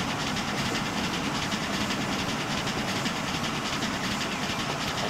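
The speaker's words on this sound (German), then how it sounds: "Der spanische Zug fährt von Moskau nach Bordeaux, ist meine längste Strecke." A Spanish train rolls along in the Transport Fever video game with a steady, dense rumble and faint rhythmic clatter that stays constant and fairly loud throughout, with no voices.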